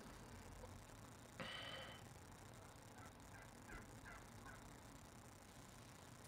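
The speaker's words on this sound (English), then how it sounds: "I think there's a turkey walking around on my street outside. I just heard a turkey." A turkey gobbles outside on a residential street, one brief faint call followed by a few softer distant notes, under a steady noisy background.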